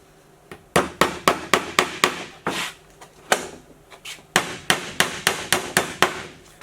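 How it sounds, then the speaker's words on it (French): A traditional nail being hammered into wood for a trunk build, with a quick, loud series of close, ringing hammer strikes in two regular runs separated by a short pause, no talking. "Ici, on positionne un clou"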